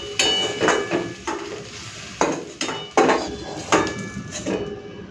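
Fried soybean chunks being lifted from a pan with a metal utensil, a series of distinct scraping clinks and knocks against the pan over a faint sizzle.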